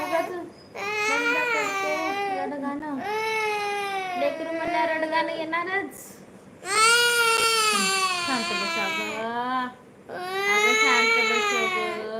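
A young child cries loudly and close by in long wailing bursts, broken by brief pauses for breath and short whimpers.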